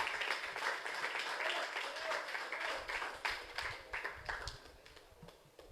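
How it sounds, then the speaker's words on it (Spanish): A church congregation claps for the Lord during a sermon, a sustained patter of many hands at moderate loudness, fairly dense and even throughout. "Dan un fuerte aplauso al Señor."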